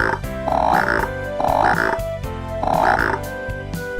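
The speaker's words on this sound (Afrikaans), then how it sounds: "Padda." A frog croaks in three or four rhythmic bursts about a second apart, loud and close, with steady musical tones running underneath.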